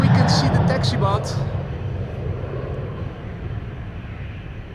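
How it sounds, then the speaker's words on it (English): An Embraer 190 jet taking off at Amsterdam Schiphol Airport, a steady distant engine roar that stays broad and even throughout, with someone talking over the first second or so. "Embraer 190 to Zagreb taking off here in the foreground"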